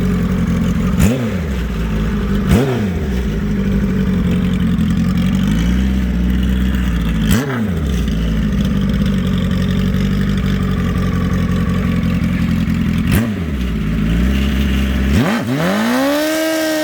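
A home-built racing motorcycle engine is revved repeatedly, loud and close, with sharp throttle blips rising and falling between steady idling, ending in a long climbing rev with no talking.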